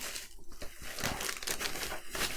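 Plastic packaging of a Mirage-Hobby 1/400 ORP Orzel model kit is torn open, giving a close, continuous crinkling and crackling with short, sharper rips throughout.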